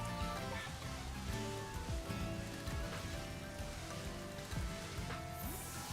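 Rain falls steadily in Pokémon Scarlet, a soft, constant patter with faint scattered drops heard alone at low volume.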